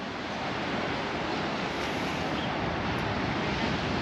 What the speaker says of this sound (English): You can see the waves are battering the sea wall.